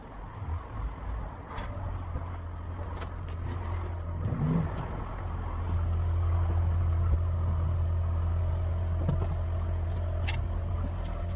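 A car, known as Barry, idles and then runs at higher revs as it is driven into a garage, a low steady engine hum that grows louder and fuller partway through.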